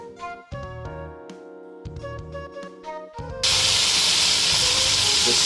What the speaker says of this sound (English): The sound of sizzling meat.